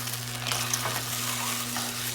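Turmeric-coated eggs sizzle in hot oil with a constant crackle and occasional spatters, under a low steady hum.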